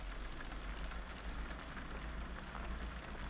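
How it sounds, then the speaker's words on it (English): Rain falling in the video game Outbound, a dense, steady hiss of drops with a low rumble underneath, continuous and even throughout. "And there go the rain again."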